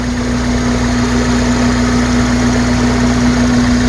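A 1993 Toyota Corolla engine idles steadily after a power steering fluid flush, a constant loud hum with a strong even drone and no change in speed throughout.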